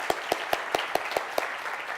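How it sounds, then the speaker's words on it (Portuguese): A single person claps at an awards event, seven sharp, evenly spaced claps close to the microphone over faint background murmur. "Uma salva de palmas para a Martinelli."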